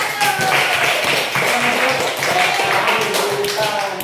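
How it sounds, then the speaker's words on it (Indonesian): A classroom group claps and applauds for a presenting group, a dense burst of hand claps sustained throughout at close range. "kita beri aplaus buat kelompok 1"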